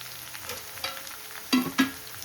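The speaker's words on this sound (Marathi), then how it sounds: "याच्यामध्ये टाकले मी जिरं मोहरी लसण कांदा आणि हिरवी मिरची" Cumin, mustard seeds, garlic, onion and green chilli tempering in hot oil for a gram-flour besan dish give a low background sizzle with a couple of sharper crackling bursts near the end.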